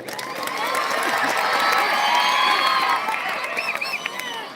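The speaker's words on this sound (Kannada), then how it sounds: "ಒಂದ್ ಬಾರಿ ಚಪ್ಪಾಳೆ ಕೊಡ್ಬೋದು ಅವರಿಗೆ" Spectators at an outdoor boys' kabaddi match cheering, whooping and clapping together, a loud swelling crowd roar with children's shouts that builds then eases over several seconds.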